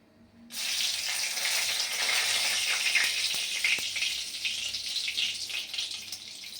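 Two dried red chillies drop into already hot oil left over from frying paneer, bursting into a loud, steady sizzle that starts abruptly and keeps hissing without pause.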